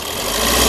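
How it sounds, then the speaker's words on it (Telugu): A 2016 Maruti Swift Dzire VDi diesel engine idles close by, a brief loud, steady rumble with even low vibration. "ఇంజన్ యొక్క నాయిస్ సైలెంట్గా ఉంది"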